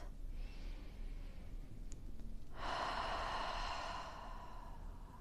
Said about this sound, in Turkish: Al burada derin bir nefes. Karnına doğru ağızdan boşalt.